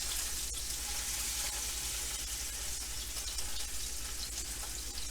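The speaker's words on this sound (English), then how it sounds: "The stove, the hob is on high heat, so that encourages the browning." A tomahawk beef ribeye steak sears on a hob at high heat, giving a steady, loud, continuous sizzle and crackle from start to finish with no talking.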